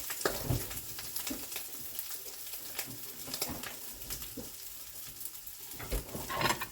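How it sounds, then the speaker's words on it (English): Spaghetti squash bake mixture sizzling steadily in a pan as it keeps cooking, a close continuous crackle with occasional utensil scrapes and soft taps. "It just lets it continue cooking in the pan."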